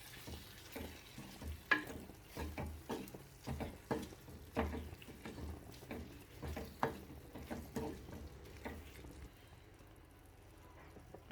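Madras thorn curry with ginger-garlic paste, coriander leaves and coriander powder is stirred in a pan. Soft, rhythmic scraping strokes mix with a faint sizzle, then settle into a quiet simmer near the end.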